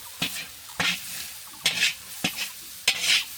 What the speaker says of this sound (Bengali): এটা ভালো করে মিক্স করে নেব।